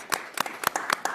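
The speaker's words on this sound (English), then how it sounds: "So we will do an applause." A few people clapping briefly at a school board business meeting, a short burst of sparse, fairly close handclaps with no voices over it.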